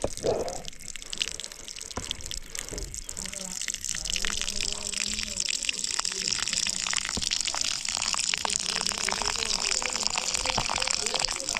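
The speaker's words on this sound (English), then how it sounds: "So we'll wash them at the tap water on the other side." Water runs steadily from an outdoor tap at a camp where water boils over a charcoal fire, a constant broadband gush with faint clinks layered over it.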